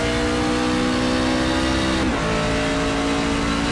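Race trucks in the iRacing sim at the Charlotte Roval, leaving turn 8 onto the banking, with a steady loud engine drone whose pitch drops sharply midway as they shift, then climbs again.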